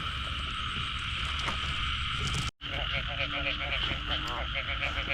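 A dense chorus of frogs croaks in the rain during mating season, steady pulsing calls layered over a constant hiss of rainfall, close and loud with a brief dropout midway.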